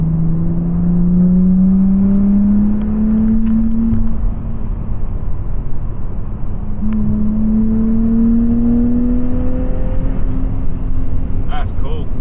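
A car fitted with a new axle-back exhaust drones steadily and loudly as it drives, its engine note climbing smoothly twice as the car accelerates, with a brief click near the end.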